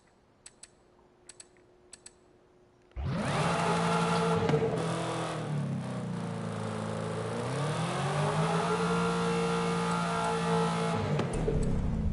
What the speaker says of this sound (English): I thought I heard a Dodge Challenger engine in that supercharger noise for some weird reason.